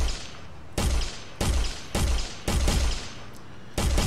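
Gunfire from a first-person shooter game built in Unreal Engine 4: six sharp, loud shots fired singly at uneven intervals, each with a brief rumbling tail, with no voices over them.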